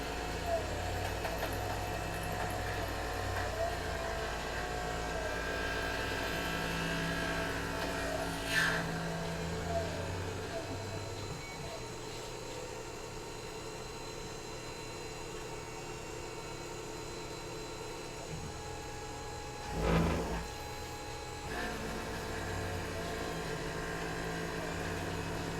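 A Tormach PCNC 1100 CNC mill plunges an end mill into steel at 3,000 RPM and 8 inches per minute, giving a steady, smooth machine hum with two brief louder bursts partway through, while a voice talks over it.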